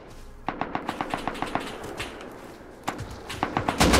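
Rapid automatic gunfire from the survival video game Rust: an even burst of about a dozen sharp shots, a brief pause, and then further scattered and clustered shots, loud and close.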